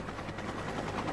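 An air ambulance medical helicopter flies in the distance, heard as a faint, steady rotor and engine drone.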